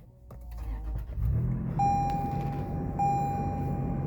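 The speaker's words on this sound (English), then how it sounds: "So I'm going to turn the vehicle on" A 2022 Toyota 4Runner starts up, the engine catching with a low rumble that settles into a steady idle, with a thin electronic chime tone sounding over it, heard close inside the cabin.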